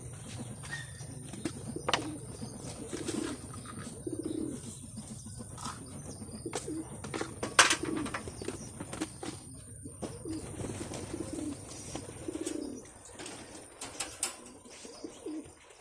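Racing pigeons at a loft coo repeatedly with occasional chirps and wing flaps, a steady close chorus with scattered clicks and knocks throughout, no talk.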